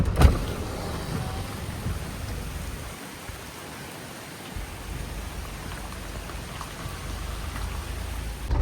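Heavy rain pours in a dense, continuous hiss, steady and enveloping, with a faint low rumble underneath, in Adivare village with the river in flood.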